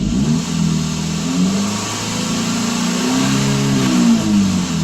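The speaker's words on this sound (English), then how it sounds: "So if I rev it, in theory VVL should lift." A 2007 Subaru Impreza engine revs up and holds steady, its rising tone sweeping with the throttle during a lumpy-idle fix, loud and close with no talk.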